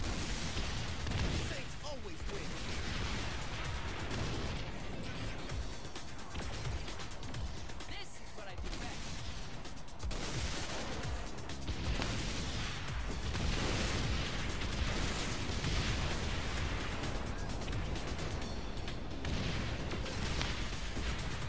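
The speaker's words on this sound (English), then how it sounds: "You shoot in front, I shoot behind." Dense, sustained gunfire and booming explosions from the Saints Row 4 video game fill the whole stretch at a steady roar, with voices talking over the combat throughout.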